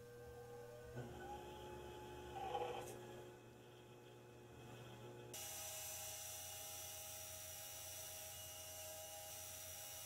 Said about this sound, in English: At higher speeds, like this one, it begins working quickly and polishing.